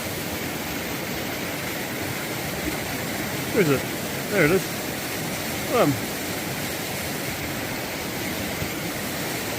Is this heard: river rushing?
yes